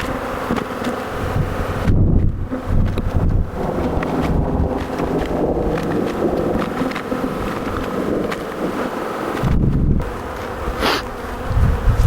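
Honeybees buzzing steadily at an opened hive split during a beekeeping inspection, a dense continuous hum up close with gusts of wind noise brushing the microphone throughout.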